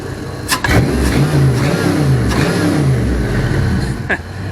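An LS engine revs hard nearby, its loud roar climbing and falling a couple of times over a few seconds.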